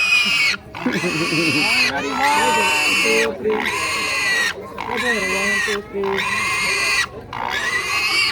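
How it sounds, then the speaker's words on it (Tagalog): Repeated loud squeals and grunts from a tired, chased pig in bursts, close by, with people talking and shouting over them throughout. "Hindi na makatakbo yung baboy."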